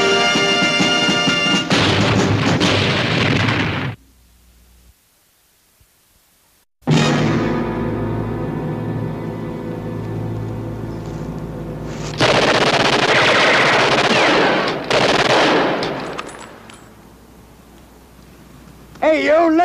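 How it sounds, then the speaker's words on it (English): Machine-gun bursts and rifle fire in the 1964 World War II TV series Combat!, loud rapid volleys broken by a short silence, then renewed sustained firing alongside dramatic music. "You're firing the wrong guys."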